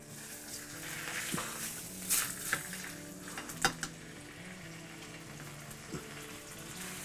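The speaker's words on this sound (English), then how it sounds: "When you're cooking a roast, it's always good to brown it on both sides." Roast beef sizzles as it browns in a hot pan, a steady close frying hiss punctuated by occasional clatters and scrapes of a utensil against the pan.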